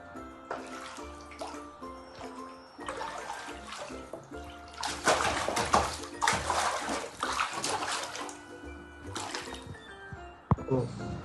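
Monsoon rainwater rushes through street drains and over a flooded road, a steady wash of running water with surging bursts that swell in the middle and stay close and fairly loud throughout.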